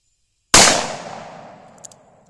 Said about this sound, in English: I'm shooting reloads, and they're all different levels of powder